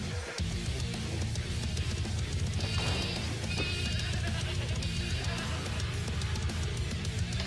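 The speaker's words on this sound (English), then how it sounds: "Hear that one goat? Fucking screamed." Goat bleating in the Payday 2 goat simulator heist on overkill, a strained screaming bleat rising over a dense game soundscape of rumble and clatter.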